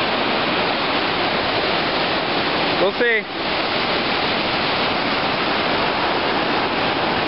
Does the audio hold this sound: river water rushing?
yes